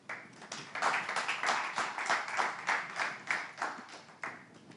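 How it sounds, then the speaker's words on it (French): A small audience claps for a contestant at a talent competition semi-final, a modest patter of hand claps with uneven rhythm, moderately distant and alone without speech. "on va réclamer un peu plus d'applaudissements pour notre prochaine candidate"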